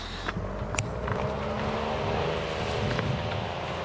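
A car goes by on a narrow country lane, its engine note swelling and then fading. A few sharp knocks and clatters ring out nearby, and the whole pass sits close and at moderate volume.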